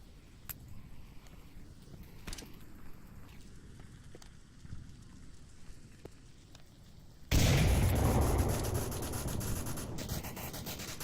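A grenade explosion in the VR shooter Onward erupts as a sudden loud blast after scattered faint clicks and thumps, leaving a long roaring rumble that slowly fades, with no talk over it.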